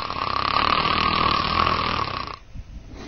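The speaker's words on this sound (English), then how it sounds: "the frequency of the upper airway vibration increases along with the loudness of the snoring" Loud, steady snoring from upper-airway vibration during sleep, a single sustained rasping snore lasting about two seconds before cutting off into quiet breathing noise.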